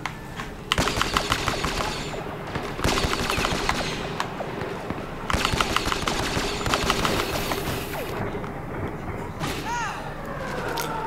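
Relby V10 blaster fire in Star Wars Battlefront, rapid sustained bursts of shots broken by brief pauses, loud and close with game effects and faint chatter mixed in.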